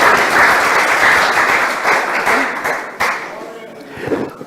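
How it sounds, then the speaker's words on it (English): An audience at a Manitoba party leaders' election forum breaks into sustained applause, loud at first, then thinning and fading as a voice starts speaking. "so please let's give our athletes a round of applause"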